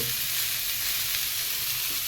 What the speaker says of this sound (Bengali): সবজিগুলো হালকা করে ভাজা হয়ে গেছে বন্ধুরা